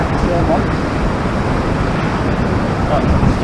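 Strong wind buffets the microphone over a constant roar of surf on the Holderness coast at Hornsea, loud and unbroken throughout.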